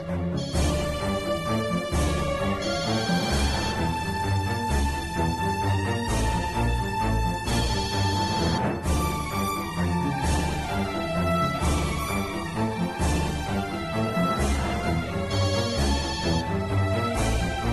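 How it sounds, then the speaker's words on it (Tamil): A telephone ringtone plays for an incoming call. It is a loud, continuous electronic melody with repeating tonal phrases and no talk over it. "பெரியயா தான் போன் பண்றாரு."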